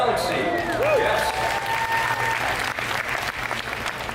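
A concert audience bursts into rapturous applause after a big band performs a piece from Super Mario Galaxy, dense sustained clapping from a large crowd with faint whistles and cheers over a lingering tone.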